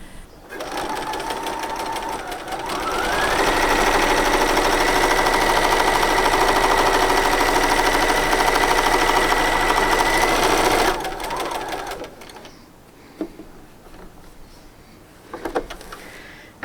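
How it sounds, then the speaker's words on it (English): Sewing machine stitching metallic thread onto felt for bobbin work on a cushion cover, running steadily at close range. Its whirring hum speeds up partway through, holds for several seconds, then stops, followed by quiet handling sounds. "going to keep working up and down this space and do a whole pile of stitching with the metallic thread on the front"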